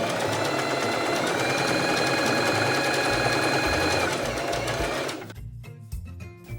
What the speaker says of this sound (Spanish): Y aquí estamos cosiendo la segunda línea, como podéis observar.